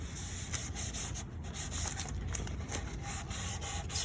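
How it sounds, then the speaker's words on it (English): Finish rubbed hard into the wood of a lazy susan, a steady close rasping friction with rhythmic strokes continuing throughout, no speech. "I have to rub it in really hard to get the stuff to take."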